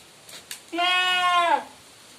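A hornless milking doe goat for sale at a livestock market gives one clear, drawn-out bleat, loud and close, after a couple of faint knocks.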